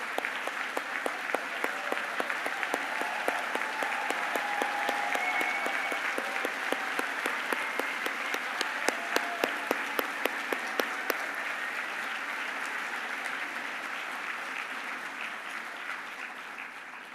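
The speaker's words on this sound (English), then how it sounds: "please stand so that we can applaud you" A gala dinner audience gives a long round of applause, the clapping steady and sustained with a few sharper individual claps standing out before it slowly thins toward the end.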